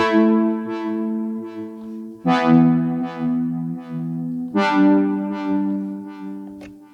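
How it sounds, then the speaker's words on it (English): Uno Synth Pro X synthesizer plays sustained tonal notes soaked in delay and reverb, three phrases each struck sharply then ringing out with repeating echoes and a long fading release, heard alone. "it's the delay and the reverb and the release that we're hearing"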